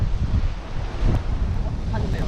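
Strong gusting wind buffets the microphone by the sea, with a steady low roar of heavy surf and whitecapped waves rolling beneath it, continuous and loud throughout.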